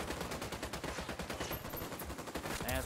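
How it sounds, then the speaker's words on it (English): Rapid bursts of automatic gunfire from the video game Ghost Recon Wildlands, loud and continuous, with dense repeated shots throughout. "I'm opening fire on these shitheads."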